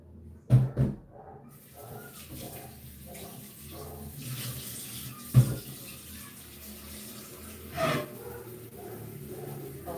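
Water runs from a kitchen tap during cooking, a soft, continuous trickle broken by a few louder splashes and knocks, with faint background noise.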